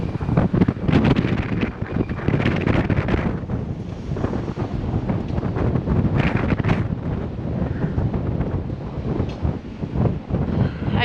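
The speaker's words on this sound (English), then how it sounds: "it feels like we're getting like tornado wind gusts right now" Strong wind gusts ahead of a distant storm near a garden greenhouse, loud buffeting roars hitting the microphone in surges that rise and fall throughout.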